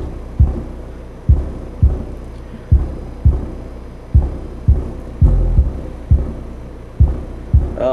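Subwoofer in a car audio setup with a Sundown SAX-1200d amp and RE SE 10-inch sub plays a song, thumping in strong regular bass pulses while ceiling drywall rattles along, loud and close with no talking.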